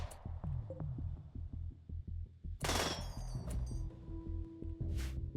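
Gunfire crackles in RimWorld, a steady run of small sharp pops over a low droning bed, with a couple of brighter, louder bursts standing out midway and near the end.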